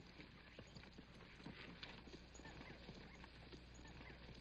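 Horse hooves clip-clopping in a 1961 Western film scene, quiet rhythmic hoof knocks under a steady background hiss.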